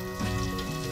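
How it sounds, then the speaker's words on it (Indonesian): Soaked, salted patik fish frying in hot oil: a steady, dense sizzle and crackle, close and even, with no voices. "ini ikan patik yang sudah direndam tadi, kemudian kita langsung goreng."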